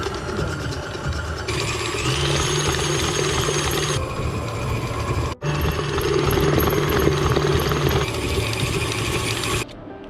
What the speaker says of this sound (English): we are going to use the table mixer to speed things up